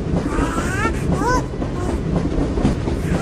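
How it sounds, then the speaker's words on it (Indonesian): A small toy train rolls along with a steady rattling clatter, joined by brief high whistling tones, close and fairly loud throughout. "kereta kecil itu bergerak"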